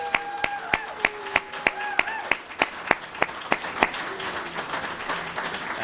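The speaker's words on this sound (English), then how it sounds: "we'd like to kick every ceremony off with a loud round of applause" An audience at a Nasdaq closing bell ceremony claps in a scattered round of applause, sharp individual claps ringing out near and fairly clear over a tonal background, then thinning and fading.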